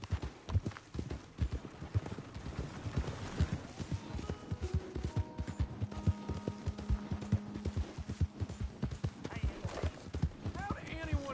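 Horse hooves clip-clop in a steady galloping rhythm inside the video game Red Dead Redemption 2, loud and continuous throughout with a faint tonal game score underneath and a brief whinny near the end.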